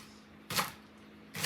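Two crisp knife cuts through a large green onion-like vegetable on a cutting board, each a short sharp chop about a second apart, close and clear with no talking.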